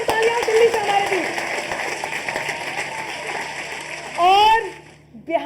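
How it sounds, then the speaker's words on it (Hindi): Audience applause for a poet from Delhi at a Hindi poetry gathering, a dense, steady clatter of clapping with a voice sounding over it, swelling briefly before fading near the end. "एक बार जोरदार तालियां दिल्ली से हमारे बीच।"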